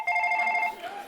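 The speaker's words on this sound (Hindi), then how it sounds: "ग्राहक के फोन भी आने शुरू हो गए हैं।" A phone rings with a customer's call, one bright electronic ringtone burst of steady tones, close and loud, fading out near the end.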